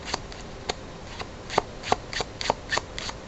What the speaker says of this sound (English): Shuffle off until the king is back on top